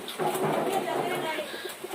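A pet bird in a coconut-shell nest at a home with goats, hens and fish gives low, soft, repeated coos up close against a busy background murmur.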